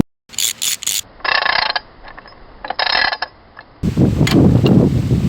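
A ratchet with a 3/4-inch deep socket loosens a lawn tractor's steering wheel nut. Quick bursts of metallic clicking come up close, followed by a rougher grinding rub at the end.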